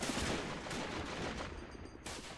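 Rapid machine gun fire from a bunker in a World War I battle game set at Bois le Pretre in 1915, a dense sustained rattle of shots mixed with other gunfire, loud and continuous with no voices.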